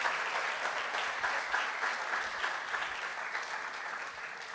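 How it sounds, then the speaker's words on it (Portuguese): A church congregation claps together through a steady burst of applause, dense and fairly even, with no one talking over it. "Crente, pode aplaudir, aplauda."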